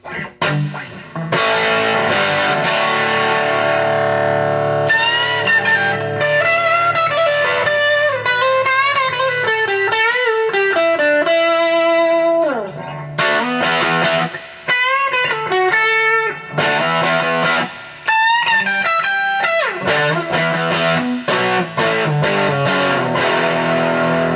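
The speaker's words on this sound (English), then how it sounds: "using one of my Electra circuits, one of my Electra distortion pedals" Heavily distorted electric guitar through an Electra distortion pedal, playing chords and melodic runs, loud and continuous with brief pauses between phrases.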